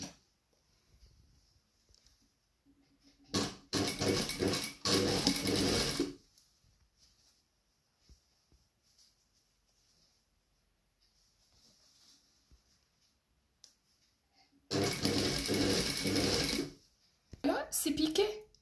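A sewing machine stitches fabric for a sheath-style yoke in two separate fast, rattling bursts of a few seconds each, with quiet pauses between them and faint talk.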